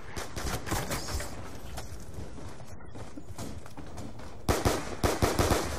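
Rapid gunfire in the zombie game Call of Duty: Mob of the Dead, with dense bursts of automatic shots that pause briefly and then return as a louder volley, sharp and close throughout.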